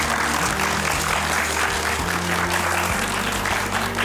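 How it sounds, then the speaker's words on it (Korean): Audience applause at a Korean lecture event, a steady dense wash of clapping from a large crowd that fills the whole span without talk. "큰 박수로 부탁드립니다"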